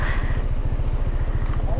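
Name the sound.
motorcycle crossing a wooden bridge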